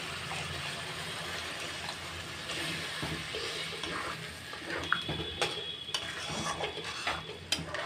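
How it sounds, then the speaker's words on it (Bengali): Boiled food being rinsed with water in a kitchen, a low, watery wash with light clinks of utensils against a pot, the clinks getting sharper and more frequent toward the end. "আমি এটা জল দিয়ে ধুয়ে দিচ্ছি, যেগুলো লেগে আছে সব"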